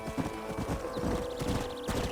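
Horse hooves clip-clop at a steady walking rhythm in the Red Dead Redemption video game, close and moderately loud, with a brief whinny mixed in over soft ambient noise.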